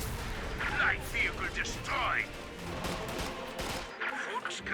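Rapid rifle squad gunfire in Company of Heroes 2, with clustered bursts of shots and battle noise while a commentator keeps talking over it.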